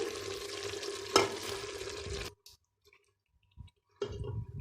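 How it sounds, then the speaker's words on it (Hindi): Chicken frying in a pan for a home-style chicken karela salan as onions go in and are stirred: loud continuous sizzle with stirring scrapes, a sharp clank near one second, then sudden quiet with small knocks before the sizzle returns. "चिकन अब भुन गया है। अब मैं इसके अंदर प्याज डालूंगी।"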